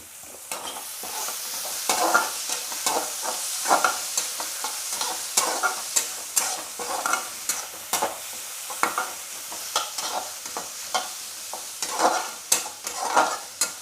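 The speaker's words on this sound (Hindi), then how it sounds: "प्याज को ज़्यादा हम लोग भूनेंगे नहीं, सिर्फ सौते करना है हल्का सा" Onion sautés lightly in a kadai, giving a soft continuous sizzle broken by repeated stirring scrapes and spatula taps at an uneven rhythm, close and alone.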